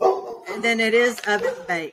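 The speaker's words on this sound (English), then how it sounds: "I'm sorry about the dogs." Dogs bark at people across the street, the sharp yaps sounding close and fairly loud, mixed in with a person talking steadily over them.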